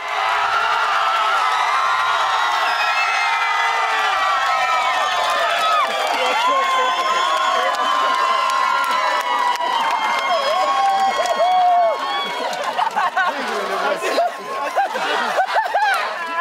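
Home crowd of local supporters cheering and shouting at a tug-of-war contest, a steady dense roar of many voices with whoops and laughter, loud and continuous throughout.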